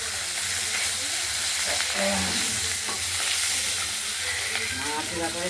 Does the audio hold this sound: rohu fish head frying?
yes